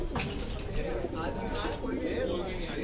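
Large pigeons, a mix of males and females held in a loft and a net, coo softly and continuously while someone talks over them nearby.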